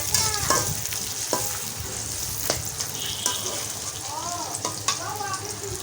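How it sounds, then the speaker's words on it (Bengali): Dried ribbonfish frying with onions in a pan gives a steady close sizzle, broken by scraping stirs and a few sharp clinks. "এই যে আপনারা শুটকিটা আমার এককালে ভাজা হয়ে যাবে আমি দিয়ে দিচ্ছি শুটকিগুলো ঠিক আছে পেঁয়াজের সঙ্গে ভাজা হয়ে"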